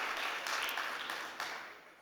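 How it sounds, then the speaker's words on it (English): A burst of applause from a crowd, dense clapping that fades gradually over about two seconds. "Can we give a big round of applause to Steve Rosenblum from Libertify?"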